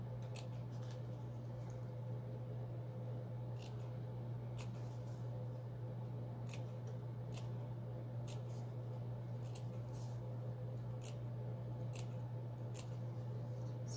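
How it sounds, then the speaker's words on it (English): Small scissors make quiet, repeated snips around the curved edge of a fabric appliqué, cutting the threads in an irregular rhythm over a steady low hum. "we're gonna snip those threads all the way around"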